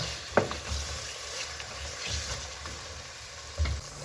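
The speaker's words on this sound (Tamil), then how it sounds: "இந்த டைமில் நாங்கள் ரெடி பண்ணி வச்ச தயிர் சேர்த்து கொள்வோம் தயிர் சேர்த்து நல்லா கலந்து விடுங்க" Yogurt being stirred into prawn biryani masala frying in a pan, giving a soft, steady sizzle with faint scraping stir strokes and a couple of brief louder knocks, heard alone without talk.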